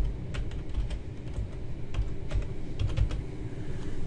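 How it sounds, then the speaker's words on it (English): Someone types on a computer keyboard at a Windows 7 machine, a quick, irregular run of clicking keystrokes over a low background rumble, with no talking. "we type in PowerShell"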